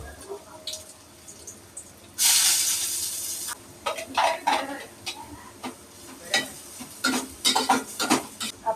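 Chopped onion dropped into plenty of hot oil for a prawn Koliwada recipe, a sudden loud hiss followed by repeated spoon scrapes and stirring clatter against the pan, close up with no voices.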